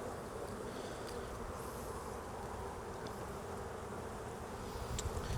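Honeybees in an open hive, with a queen short of laying space and the colony near swarming, make a steady dense buzz that fills the whole clip, close and even in level.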